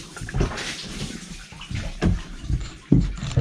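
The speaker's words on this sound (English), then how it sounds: "There's a lot of water in the bilge." Water sloshes and gurgles in the bilge of a blue-water sailboat, coming in uneven bursts and surges that swell and fade several times, close by and fairly loud.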